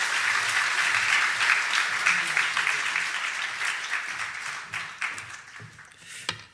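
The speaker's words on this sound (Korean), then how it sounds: "박수로 모시겠습니다" A church congregation at a revival meeting claps to welcome the guest speaker, a warm sustained round of applause that gradually thins into scattered claps before fading out.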